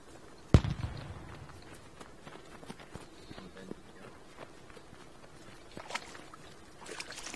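A single sharp crack of gunfire in the video game Squad, on the Chora Valley map, rings out once near the start. Faint scattered clicks and footstep-like movement sounds follow at low level.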